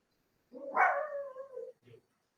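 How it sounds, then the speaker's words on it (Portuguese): A small dog gives a single drawn-out bark that trails into a whine, followed by a brief soft yip, close and alone in otherwise quiet surroundings. "O cachorrinho respondeu."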